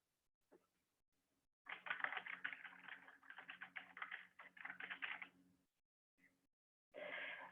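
Someone types on a computer keyboard in a quick, uneven run of close keystrokes for several seconds, pauses, then resumes with a short burst, at a soft level with no talking.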